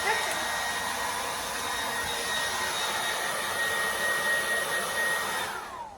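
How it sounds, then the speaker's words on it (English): Continuous high-pitched whine and rushing air of a hair dryer running close by while drying a dog, steady throughout before cutting off at the end. "you just want to keep the hair dryer moving so you're not in the same spot for very long"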